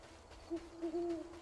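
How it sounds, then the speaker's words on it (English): An owl in Death's Door hoots two or three times, mellow and fairly soft, over a faint nighttime ambience with no talk. "I can hear a hooting."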